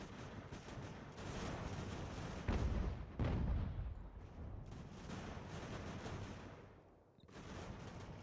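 Artillery fire in the strategy game Ultimate General: American Revolution, dense rolling booms and crackling volleys that swell and fade over several seconds, with a brief lull near the end before the bombardment resumes.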